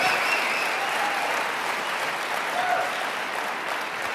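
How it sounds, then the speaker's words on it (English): Steady, dense clapping from a large audience, sustained and even throughout without a break. "Give yourselves a round of applause."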